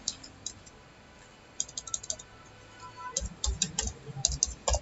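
Text is typed into WordPad on a computer keyboard: quiet, close clicks of keys in irregular bursts, sparse at first and then a quicker flurry of taps toward the end.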